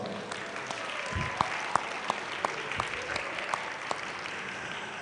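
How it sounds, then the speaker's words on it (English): A small ceremony audience gives a sparse round of applause, with a few distinct claps popping out over a faint, steady background. "If you would give him a round of applause."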